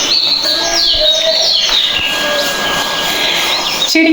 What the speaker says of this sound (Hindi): सुनिए पीछे चिड़ियाँ भी चहचहा रही हैं।